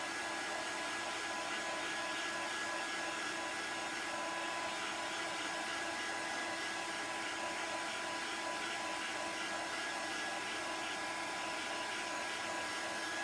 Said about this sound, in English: So if you're using a heat tool, you want to keep it moving.